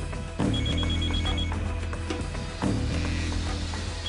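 A telephone rings at home in two loud electronic bursts, each sustained for about two seconds, with no talk over it.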